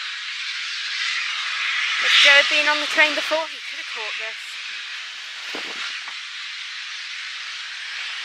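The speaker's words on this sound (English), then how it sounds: "We are at Kidderminster Station and the steam train is now departing." A steam train pulls out of Kidderminster station. A steady, close hiss of escaping steam runs throughout, with someone speaking briefly over it partway through.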